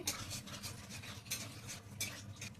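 Spice masala with a little sugar stirred in a pan, giving soft repeated scraping and clinking strokes with a faint sizzle underneath, steady and close.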